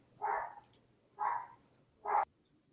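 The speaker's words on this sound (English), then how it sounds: "Oh, there goes my dog." A dog gives three separate barks spaced about a second apart, moderately close and clear against a quiet background with no talking.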